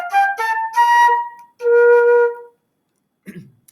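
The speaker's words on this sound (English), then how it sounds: "The flute is going to play the high notes" Flute played by a band teacher, a short run of clear high notes followed by a longer sustained tone, close and solo with no accompaniment.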